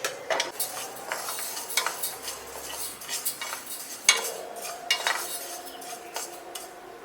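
Horse gram being dry roasted in a pan, a dry rattling scrape of the dry beans as they are stirred, with uneven clinks of a utensil against the pan and a faint sizzle, close and without speech.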